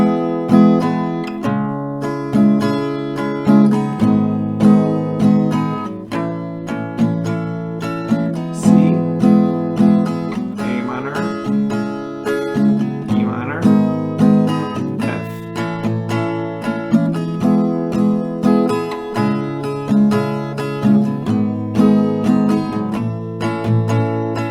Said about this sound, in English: So that is 1 chord progression round, so it sounds like this